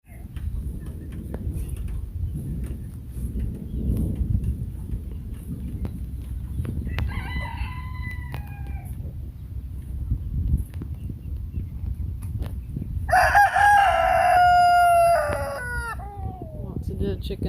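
On a farm hit by a severe storm, a rooster crows two times, once moderately close and then louder and nearer, over a low rumble of wind and outdoor noise, with softer chicken sounds between the crows.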